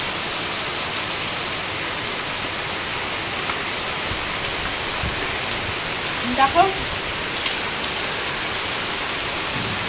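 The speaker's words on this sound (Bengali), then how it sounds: "আর এত বৃষ্টি হচ্ছে" Heavy rain pours steadily during a downpour with a power cut, a dense continuous hiss of drops on surfaces, with a brief voice speaking partway through.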